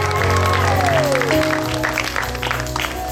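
A congregation at a church wedding claps loudly together in a brief burst that fades toward the end. Voices rise under the clapping.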